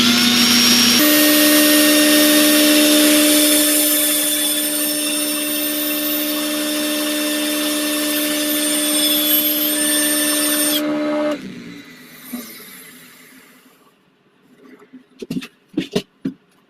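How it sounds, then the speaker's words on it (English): Sanding the inside of a wood-turned piece on a running lathe: a loud, steady droning whine with a tonal motor hum lasting about ten seconds, then cutting out, followed by a few scattered knocks and handling clunks. "Do a little bit of sanding on the inside."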